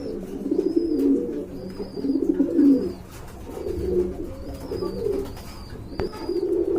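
Pet pigeons coo close by in repeated low, throaty phrases, several bursts in a loose rhythm, with faint chirps in the background and no talking.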